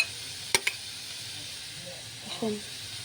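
Steady hiss and sizzle of paneer frying in hot oil until browned, with a couple of sharp utensil clinks early and a brief voice near the end.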